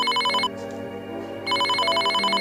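Telephone bell rings in two loud, rapid trilling bursts with a one-second gap between them, close and clear with no talking over it.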